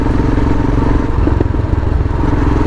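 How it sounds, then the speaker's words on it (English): A Royal Enfield Himalayan motorcycle fitted with an off-road performance exhaust idling close by, a loud, deep, throbbing thump beat running steadily throughout, no voices. "beat sound this performance exhaust produces"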